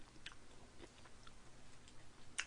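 Faint, close chewing of stir-fried jjajang noodles at a mukbang, soft wet mouth sounds and a few small crunchy clicks over quiet background, with no talking.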